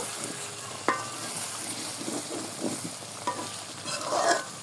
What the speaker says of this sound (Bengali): এখন আলতো করে একটু নেড়ে দিব